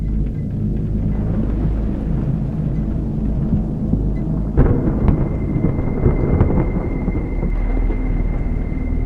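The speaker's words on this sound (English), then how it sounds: "I fixed more the thunder light and thunder sound to be more realistic" A low, steady rumble of video-game thunder rolls on, then a sharper crack breaks in partway through before the deep rumbling continues under a thin high tone.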